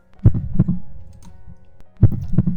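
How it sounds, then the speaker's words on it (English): A slow heartbeat thumps in low, heavy double beats, two lub-dub pairs separated by a pause of over a second, close and alone. "Heart beating."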